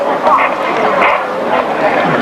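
Distressed dog shut inside a Ford Transit van at a 1991 championship dog show, yapping and whimpering repeatedly against a busy, echoing hall full of crowd talk.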